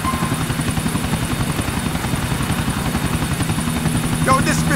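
GTA IV helicopter in flight. Its rotor and engine throb steadily and loud throughout, with a brief electronic chirp near the end.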